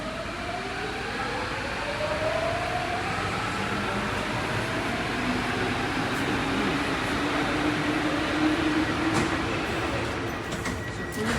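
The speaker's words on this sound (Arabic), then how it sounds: "راح علينا القطار، راح القطار علينا، بس يلا هلا بيجي واحد ثاني" A train rumbles and rolls past a station platform at close range, a steady roar with rising whine and metallic screech, no voices.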